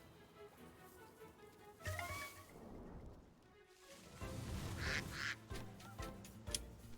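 Ducks quack repeatedly in a video game, the calls layered over game music and ambient sound at moderate loudness through the stretch.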